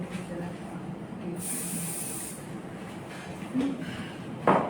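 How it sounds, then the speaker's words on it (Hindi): Hairspray is sprayed onto the front of a traditional bridal hairstyle in one short, bright hiss lasting about a second, fairly close over a faint room background. "अब प्रॉपर स्प्रे किया मैंने आगे की तरफ"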